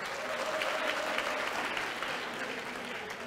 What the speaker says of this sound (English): So let's give Casio a big round of applause.